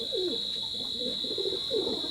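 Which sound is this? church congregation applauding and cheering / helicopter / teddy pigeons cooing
teddy pigeons cooing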